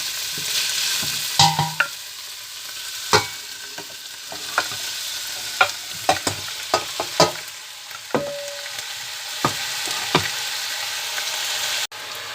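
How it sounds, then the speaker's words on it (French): Meat and chopped onions sizzle in olive oil for a Moroccan prune tagine, a steady close frying hiss broken by sharp clicks and scrapes of a utensil stirring the pan. "j'ai haché mes oignons que je vais faire revenir dans de l'huile d'olive. Et j'ajoute la viande."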